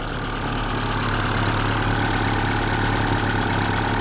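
A small engine idles steadily and evenly after a valve adjustment, a close, continuous mid-pitched rumble with a faint knocking texture and no talking.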